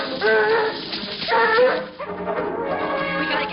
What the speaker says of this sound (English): See them dogs?